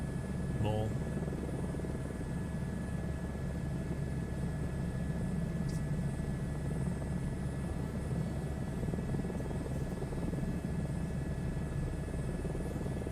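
A helicopter overspeeds in Microsoft Flight Simulator, its steady rotor and engine drone running continuously at an even level with a faint tone, while someone talks over it.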